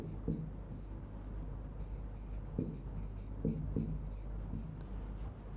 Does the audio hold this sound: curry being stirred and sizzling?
no